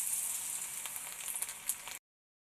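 Banana flower fritters deep-fry in hot oil, giving a faint, steady high sizzle with a few small pops, heard alone for about two seconds before cutting off.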